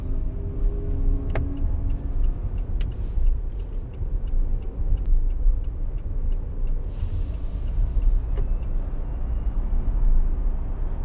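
Inside a Renault Zoe electric car driving through a city, a low, steady road rumble runs under a faint cooling-fan whine, with no other strong sounds.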